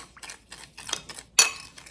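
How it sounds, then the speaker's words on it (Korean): A spoon clinks against a bowl while soy sauce, sesame oil and garlic seasoning are stirred together, a few light scraping taps spread out over two seconds, with one sharper knock near the end. "양념 이렇게 잘 저어줍니다"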